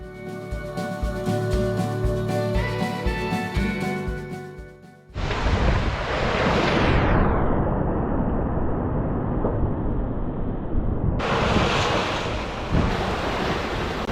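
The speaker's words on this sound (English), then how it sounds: "We are beating into 2-meter waves, but there's a pretty good period between them, so we're not slamming really too hard" Strong wind and 2-meter ocean waves rush steadily around a sailboat beating toward Colombia with its sails off, loud and continuous after a few seconds of music at the start.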